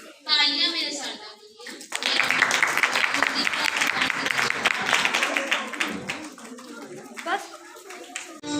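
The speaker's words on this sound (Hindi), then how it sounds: "तालियां मेरे साथ" Audience claps along at a Christmas fun fair, a steady rush of hand claps with children's voices mixed in, starting after a short spoken lead-in and continuing loudly for several seconds.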